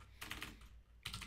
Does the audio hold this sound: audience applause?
no